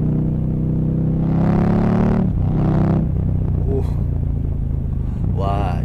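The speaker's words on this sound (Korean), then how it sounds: "이게 그 아크라포빅으로 이제 튜닝이 된 차량이라서 그런지 소리가 상당히 좋습니다" KTM Superduke 1290 R twin-cylinder motorcycle with Akrapovic exhaust revving and accelerating, a loud, close rising engine roar that swells twice while a rider speaks over it.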